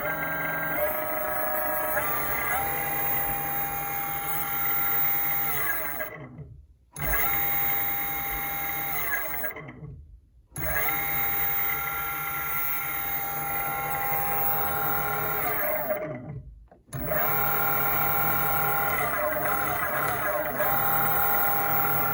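Two electric motors driven from a single ESC whine under throttle, with tonal pitches rising and falling and cutting out three times before spinning back up, loud and close.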